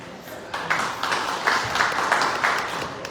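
Audience applause at a candidate forum for an Iowa House district race, a broad wash of clapping that grows after a moment and holds steady throughout at moderate loudness.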